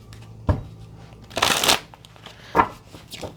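A Mermaid Tarot card deck being shuffled, giving a few separate riffling bursts: a brief snap, a longer full shuffle and a couple of shorter flicks, close and fairly quiet.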